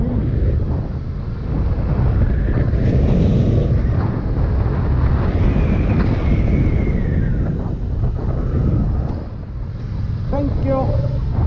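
Strong wind blows outdoors in steady, loud gusts that buffet the microphone, with a low rumble throughout and a person talking over it.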